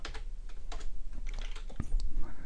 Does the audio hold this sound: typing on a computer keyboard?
yes